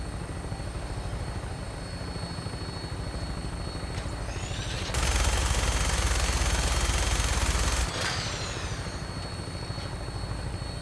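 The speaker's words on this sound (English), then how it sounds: "Your minigun should be loaded and ready to fire." Sustained minigun fire from a Vertibird gunship in Fallout 4, a dense roaring burst of about three seconds cutting in over a steady helicopter rotor drone, with whining spin-up and spin-down at each end.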